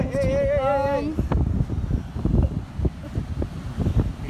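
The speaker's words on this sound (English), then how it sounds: "Sorry if you can't hear me because of the wind." Wind at a beach buffets the microphone with loud, gusty low rumbling throughout, while a person talks over it.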